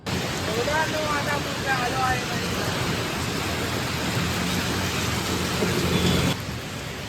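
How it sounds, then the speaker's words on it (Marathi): Steady, dense hiss of heavy rain pouring down, with a few faint whistling tones early on; the downpour fills the whole stretch and eases slightly at the end. "इतक्याच पाऊस चालू झाला एकदम जोरदार"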